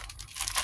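Plastic bag crinkled and handled close by while cactus seed-sowing supplies are laid out, a brief soft rustle that swells toward the end.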